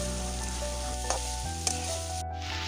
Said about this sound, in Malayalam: ഇതും നമുക്ക് ഇളക്കി കൊടുക്കാം മഞ്ഞപ്പൊടി ഇടുമ്പോൾ കൂടുതൽ ഇടല്ലേ